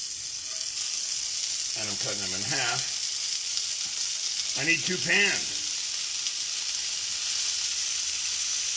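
Bacon strips fry in two pans with a loud, steady, continuous sizzle and crackle throughout, while someone talks briefly over it.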